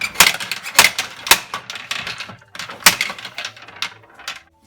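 A 1992 Tyco Mouse Blaster board game mechanism firing gives loud, sharp plastic clacks and snaps in uneven rapid bursts, with rattling between the hits and a quieter tail.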